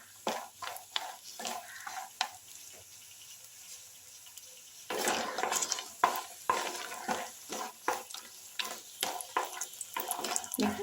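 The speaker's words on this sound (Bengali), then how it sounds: "বড়িটা একটু লাল লাল করে ভেজে নিচ্ছি।" Lentil dumplings (bori) fry in oil in a nonstick pan, with repeated sharp stirring scrapes and crackling sizzle, quieter at first and then busier and louder halfway through.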